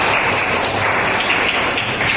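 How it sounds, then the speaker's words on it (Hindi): Audience applause in a college hall at a World Mental Health Day event, a steady dense patter of many hands clapping, fairly loud and continuous throughout with no break. "जोरदार तालियां"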